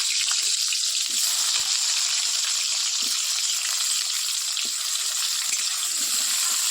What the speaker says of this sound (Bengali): কড়াইতে আমি আলুগুলো এবার ভেজে নেব।